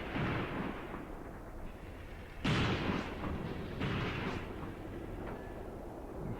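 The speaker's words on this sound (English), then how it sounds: "Okay, the other Panzerjäger opened up." A Panzerjäger tank destroyer fires in a World War II tank duel around Kharkov in 1942, giving a heavy distant boom followed by a rolling echo, with a second fainter report soon after.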